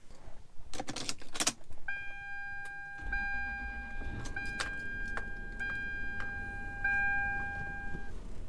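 A Toyota Land Cruiser 100 (LX470) with a leaky transmission, with keys jangling at the ignition, then the starter cranks and the engine catches into a steady idle, accompanied by faint chime tones.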